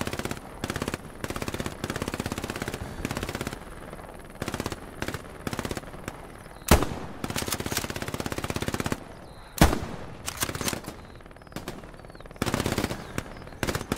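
Video game gunfire rattles in long automatic bursts, sustained and loud, broken by short pauses and a couple of sharper single cracks, continuing nearly the whole time with no talk over it.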